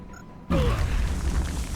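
Grenade exploding in XCOM: Long War, a sudden loud boom after a brief quiet moment, then a rumbling debris tail that fades slowly, with no talk.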